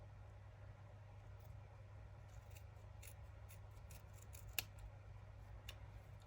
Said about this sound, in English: because we're freestyling with the scissors